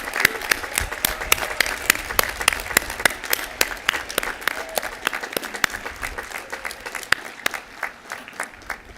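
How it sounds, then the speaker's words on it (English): At a graduate commencement ceremony, a moderately sized audience claps steadily, with distinct individual claps in a sparse, continuous patter that softens slightly toward the end. "join me in applauding."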